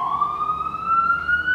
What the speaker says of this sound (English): now the freaking ambulances keep crossing by